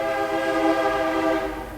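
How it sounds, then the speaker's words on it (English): A train arriving at a station sounds its horn in a loud, sustained, harmonic blast lasting nearly two seconds, with rumbling rail noise beneath that fades slightly at the end. "Hang on, my train's here."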